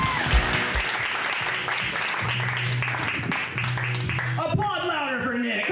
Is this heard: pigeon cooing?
no